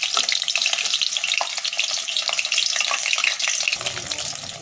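Paneer cubes for chilli paneer frying in hot oil in a pan, a loud steady crackling sizzle with dense popping spatters, close up and continuous, no voices.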